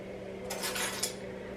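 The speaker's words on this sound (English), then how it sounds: "Just going to stir that around to help it dissolve." A spoon stirs sugar into a yeast mixture in a bowl, giving a brief cluster of light clinks and scrapes against the bowl. The sound is fairly quiet and close, with nothing else around it.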